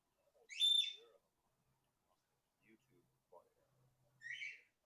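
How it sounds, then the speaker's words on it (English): A few short bird chirps and whistles sound in the distance, separated by near silence, with faint murmuring in between. "But I can hear the birds in the background."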